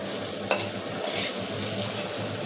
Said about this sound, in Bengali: তোমাদের শুনতে খুব অসুবিধা হচ্ছে এই স্টোভের আওয়াজে।